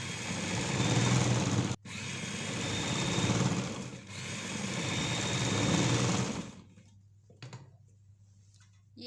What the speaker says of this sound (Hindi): इस तरह से रख के सिलाई चला देंगे